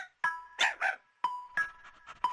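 Cartoon puppy barking in an animated children's film, several short high yaps in quick bursts, then a few more spaced yips, loud and close with no talking.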